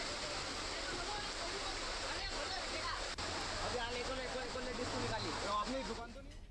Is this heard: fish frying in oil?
no